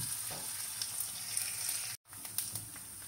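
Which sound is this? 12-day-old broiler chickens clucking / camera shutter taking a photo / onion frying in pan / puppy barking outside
onion frying in pan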